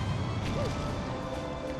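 Meteorites crash and smash in Super Mario Galaxy 2, a steady rumbling impact with crunching debris that holds at an even level, with a brief rising-falling whistle tone in the middle and no talk over it.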